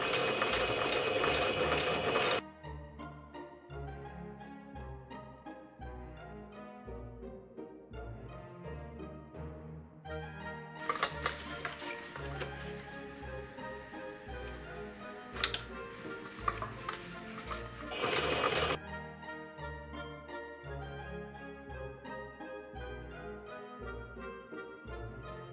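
A sewing machine stitches fabric for a paper towel case, giving a steady rapid mechanical clatter that stops briefly and resumes, close and clear with no talking.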